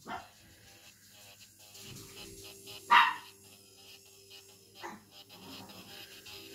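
Dogs in a house bark during a gel polish manicure session, one loud, close yap in the middle, with smaller barks and whimpers before and after, over a faint background hum.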